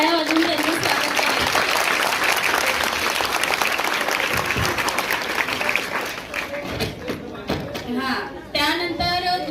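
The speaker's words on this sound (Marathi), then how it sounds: "जोरदार टाळ्या वाजवून त्यांचं स्वागत करा" Loud, dense applause greets the Tejas group at a student quiz on the Indian constitution. Many hands clap briskly together, then the applause thins, and voices talk over the fading claps near the end.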